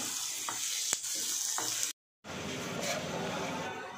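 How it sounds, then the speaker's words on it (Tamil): Onions or aromatics sizzle steadily in a hot pan while being fried to light brown as the base of an egg curry, with a few sharp spatula scrapes and a brief silent gap midway. "இது கொஞ்சம் லைட் ப்ரௌன் ஆகுற மட்டும் வணக்கினா போதும்"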